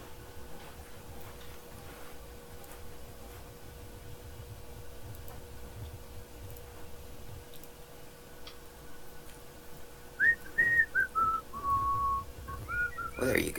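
A person whistles a short tune near the end, clear and fairly close, over a steady background hum with faint ticking.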